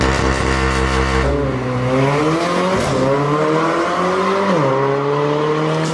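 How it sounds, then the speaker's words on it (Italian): A Mercedes car with a Mercedes performance exhaust, its deep, dark engine note loud and close, revving steadily with rising and falling pitch as it accelerates through gear changes. "Ha un suono molto cupo anche solo con lo scarico performance Mercedes."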